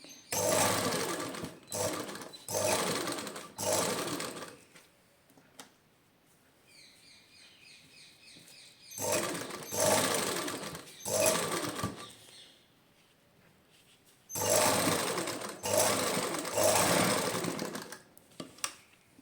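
A sewing machine stitching lace onto fabric runs in loud, close bursts of rapid whirring, several stops and starts with quiet pauses between, faint chirps in the gaps.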